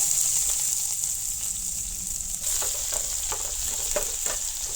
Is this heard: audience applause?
no